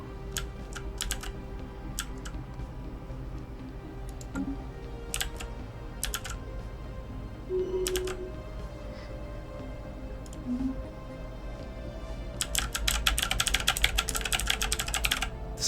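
Clicky computer keyboard typing in short scattered bursts over a steady low hum, ending in a denser, louder flurry of rapid keystrokes.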